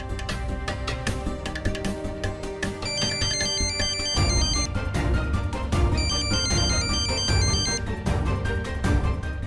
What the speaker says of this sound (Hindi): तुम्हारा फोन इतना टनटना रहा है